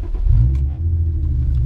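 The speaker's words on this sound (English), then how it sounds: "So let me start the car." Nissan 350Z / Infiniti G35 engine firing up, a steady loud low rumble swelling early then settling into a continuous idle, close by with no talking.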